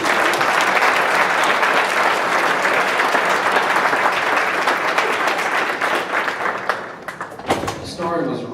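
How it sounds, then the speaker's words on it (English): Loud, sustained applause from a large audience at an opening conference session, dense and even for several seconds before tapering, with a voice speaking as it fades. "Let's give him another round of applause."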